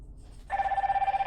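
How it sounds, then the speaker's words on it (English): A Z85 Max smartwatch rings with an incoming Bluetooth call, a close electronic tone that starts abruptly and pulses in a rapid, even trill over faint room noise. "Okay, so we have a call here, so let's answer."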